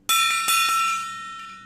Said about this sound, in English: But I'll ring this bell.